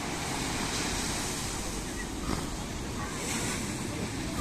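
Steady wash of ocean surf breaking on shore at Puerto de Santiago, Tenerife, with wind buffeting the microphone, waves rolling in continuously without a clear break between them.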